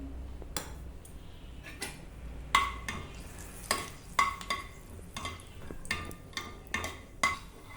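Cinnamon, cloves and garam masala go into hot oil for a mushroom curry, bringing a faint low sizzle broken by repeated metallic clinks and scrapes of a spoon stirring against the pan.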